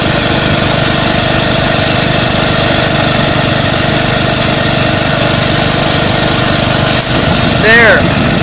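Quincy 325 ROC 10 air compressor unloading and blowing out lots of air, a loud, steady engine-like roar with a constant hiss running throughout, a brief higher chirp near the end.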